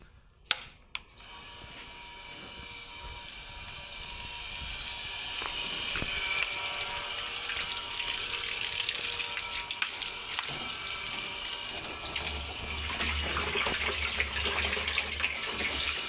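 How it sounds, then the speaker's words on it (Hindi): Water from a motor pump pours steadily into a drum on a farm, a continuous splashing rush that stays fairly loud throughout, with a low motor hum appearing toward the end and no talking. "तो भाई मोटर बंद कर दी और अपना ड्रम भर गया ये एकदम फुल"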